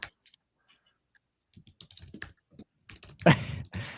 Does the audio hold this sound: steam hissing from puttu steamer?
no